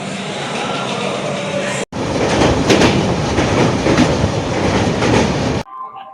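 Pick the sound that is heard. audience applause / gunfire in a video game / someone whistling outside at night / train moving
train moving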